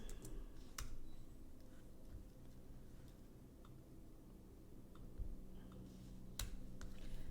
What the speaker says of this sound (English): we're going to type in self-love journal